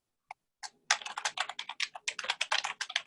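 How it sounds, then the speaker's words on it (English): Rapid, quiet keystrokes on a computer keyboard clatter steadily after a couple of isolated taps, heard alone and close during an online commission meeting. "you repeat the question? I was typing."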